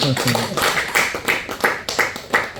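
A church congregation claps along during a Sunday afternoon service, a run of sharp, regular claps at a steady rhythm, with a voice speaking over them.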